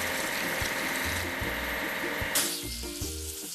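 A machine is rinsed with water to wash off leftover foam. The spray makes a steady, close hiss, with low pumping thuds underneath.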